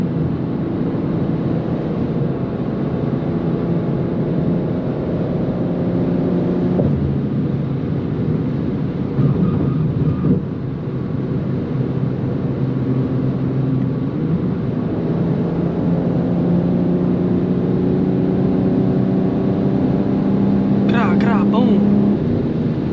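Engine drone of a 2024 BMW G87 M2 driving on a highway, with rising pitch as it accelerates through gears, a steady cabin rumble underneath and people talking over it.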